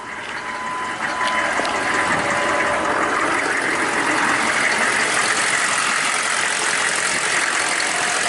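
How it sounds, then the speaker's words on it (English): A 6.5L Detroit diesel engine in a GMC truck idles close by with a steady, rough clattering rumble that holds unchanged throughout, with no voices. "Nice little Detroit diesel clocking away."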